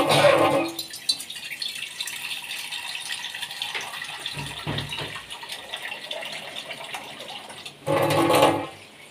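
Water pours into a cooking pot of spiced potatoes and cauliflower, a steady close splashing rush that swells loudly at the start and again near the end, with a quieter running flow between.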